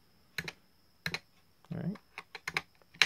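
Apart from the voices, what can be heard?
keys pressed on Masione USB gaming keyboard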